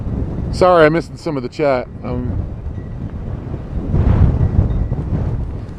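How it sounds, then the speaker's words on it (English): Strong wind buffets an outdoor microphone in a low, roaring rush that swells toward the end, after a brief stretch of someone talking. "And it is really windy."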